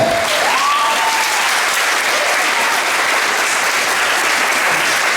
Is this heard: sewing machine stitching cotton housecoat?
no